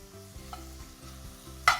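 Spices and chili are tossed in a hot pan just off the heat, giving a brief steady sizzle with a rhythmic low scraping and a sharp clink at the end.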